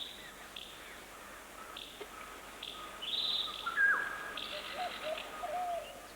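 Rose-ringed parakeet calling in a Nepal forest: short high chirps and tweets, with a brighter burst of calls near the middle, set against a steady background of birds and insects, no talking.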